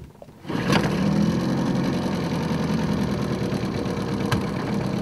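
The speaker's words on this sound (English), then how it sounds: "That is the sound of a two-stroke." A small two-stroke engine starts up after a short quiet moment, then runs steadily and fairly close with a buzzy, even drone that holds for several seconds.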